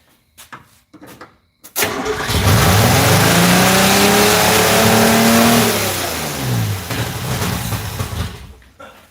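A car engine cranks and catches in a garage, then revs loudly and steadily for several seconds before easing down to a rougher idle, preceded by a few clanks and brief movement noises.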